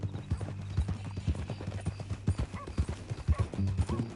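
Horse hooves clip-clop at a steady walking pace in Red Dead Redemption 2, the epilogue with a new horse, distinct hollow beats close by over a low ambient hum, with no talking.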